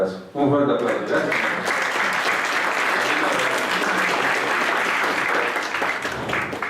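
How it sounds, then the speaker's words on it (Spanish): An audience applauding at the close of a conference on migration and human rights: a sustained, full wash of clapping from many hands that holds steady for several seconds before easing off. "Un fuerte aplauso."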